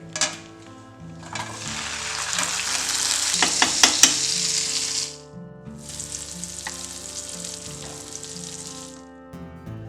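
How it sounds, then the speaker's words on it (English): Beef basted in a hot pan sizzles loudly and steadily at a professional cooking competition, with sharp crackling spikes and spoon or pan clinks midway, then a quieter, continuous frying hiss. "before plating, we will just baste our meat"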